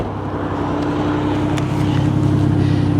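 1987 Buick Grand National engine idling after being restored with its old parts, a steady loud close rumble with a smooth even hum throughout and no talk.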